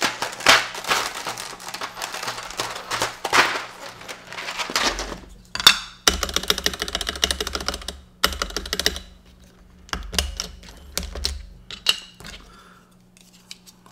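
Rapid keystrokes on a Nimbleback keyboard fitted with thick PBT keycaps, close and clear, in bursts of clacky typing with brief pauses and a few heavier key presses.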